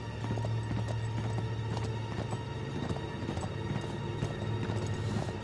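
Horse galloping in the video game Uncharted 3, with steady clip-clop hoofbeats running loud and close throughout over a dense game soundscape of rumbling ambience.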